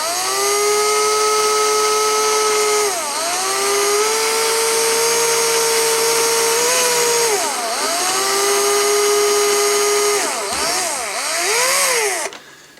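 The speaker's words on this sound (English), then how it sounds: "let's go ahead and drill a hole through the foot" A high-pitched power drill with a 3mm bit whines steadily, boring through an Action Man toy's foot, its pitch dipping several times as the bit bites in, then stopping abruptly at the end.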